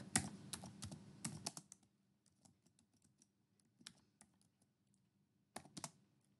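A password is typed on a computer keyboard: a quick burst of clattering keystrokes, then scattered single taps and a short final flurry, close and fairly quiet in an otherwise silent room.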